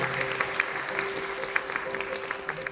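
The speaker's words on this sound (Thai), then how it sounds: "ปรบมือด้วยครับ" Audience applause welcoming a violin department head as a guest judge at the Yamaha Thailand Music Festival 2024, a steady wash of clapping throughout at moderate level, with no voices over it.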